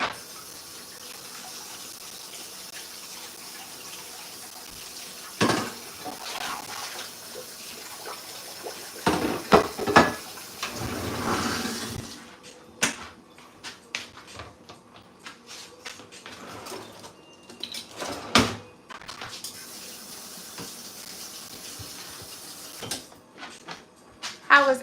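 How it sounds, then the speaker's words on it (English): Tap water runs into a kitchen sink while a cucumber is washed underneath it, a soft, steady splashing that breaks off and starts again, with handling clatter over it and a person talking at times. "I'm going to wash this cucumber."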